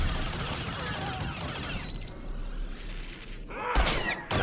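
Blaster gunfire from an Imperial Agent fight in the video game Star Wars: The Old Republic crackles in rapid bursts, with a brief electronic whine and a final heavier volley near the end.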